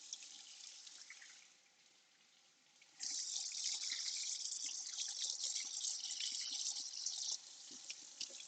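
A kitchen sink tap runs as dyed silk fabric is rinsed; a soft trickle gives way to a fuller, steady stream of running water, fairly faint and close.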